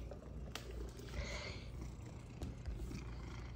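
A Munchkin cat purrs close up, a soft, steady low rumble that continues throughout, with faint household noise around it.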